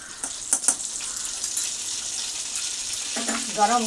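Butter melts in hot refined oil in a wok, making a light, continuous sizzle and hiss with a few brief clinks early on and a short burst of voice-like sound near the end.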